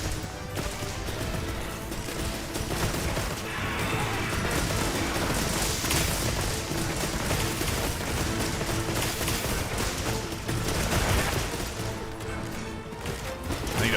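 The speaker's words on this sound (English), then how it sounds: "I can't even see what I'm shooting at." Rapid gunfire and crashing impacts from Monster Hunter Wilds pour out in a dense, continuous barrage, loud and chaotic with explosive hits layered throughout.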